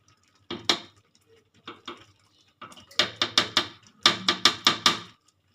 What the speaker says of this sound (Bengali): আমি গ্যাসের ফ্রেমটা বাড়িয়ে দিয়ে বারবার এরকম নাড়তে থাকবো